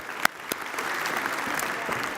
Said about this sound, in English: Give him a big hand. I heard somebody clapping.